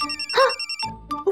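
A phone ringtone chimes in short, tuneful electronic bursts with brief pauses between them, clear and fairly loud, heard alone in a quiet room.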